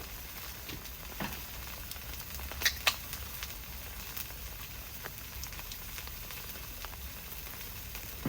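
Beef flat-iron steak fries in oil on a camping grill outdoors on a rainy day, making a faint, steady crackling sizzle with a few sharper pops of spattering oil and no voices.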